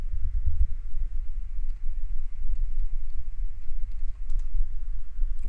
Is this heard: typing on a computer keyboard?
yes